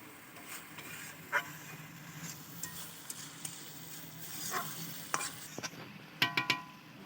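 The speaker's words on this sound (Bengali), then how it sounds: "এবারে সেই মাছগুলো দিয়ে দিলাম মশলার উপরে, দিয়ে একটু আলতো হাতে ভালো করে নেড়ে চেড়ে নিতে হবে" Fish pieces are stirred gently into frying spices in a pan, giving a faint, steady sizzle with occasional soft scrapes and clicks from the utensil, heard close and quiet, with no talking.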